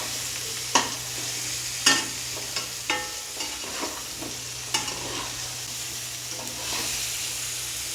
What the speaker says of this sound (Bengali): এবার আমি আলুটাকে ভালো করে ভেজে নেব।